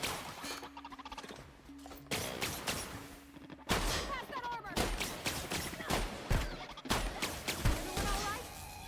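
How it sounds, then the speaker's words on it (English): Shotgun fire in The Outer Worlds: a rapid volley of sharp gunshots, several close blasts in quick succession amid other combat noise and cries, with a sustained hum early on. "Oh, come on, shotgun, do something."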